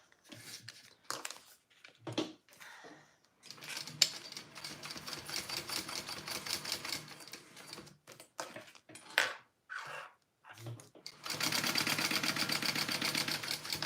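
A sewing machine runs in several bursts while stitching a Riverwalk Sling bag, its rapid mechanical clatter starting and stopping between short pauses, ending in a longer, steadier run.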